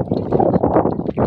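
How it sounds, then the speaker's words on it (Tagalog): Strong wind at a high mountain viewpoint along Daang Kalikasan in Sta. Cruz, Zambales, buffeting the microphone as a loud, gusty, continuous roar. "sobrang hangin dito"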